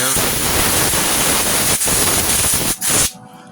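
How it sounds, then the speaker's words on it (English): Compressed air blasting from an air hose onto a fresh weld on a 1988 Ford F250 under restoration, a loud continuous hiss that briefly dips near the end, then cuts off abruptly. "We like to cool it off the air hose just so it doesn't get too hot."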